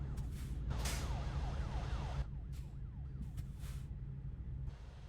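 Emergency siren in the American Truck Simulator game, a repeating wailing sweep heard over the steady low drone of a truck engine, with no talking.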